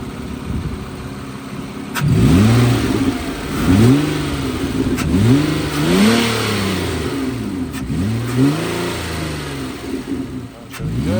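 A 2008 Nissan Altima with the 3.5L engine, revved up from a smooth idle in several close, loud bursts, each climbing sharply and then dropping back, with no talking.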